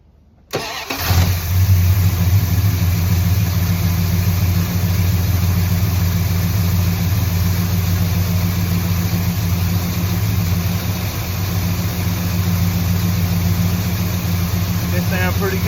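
A cold car engine cranks and catches after a short silence, then settles into a loud, steady idle with a constant hum that runs on for over ten seconds.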